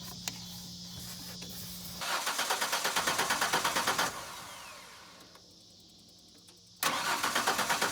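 1996 Ford F150 with a 4.9L inline six cranking without starting, two close bursts of rhythmic starter churning separated by a quieter stretch, then a third burst beginning at the end.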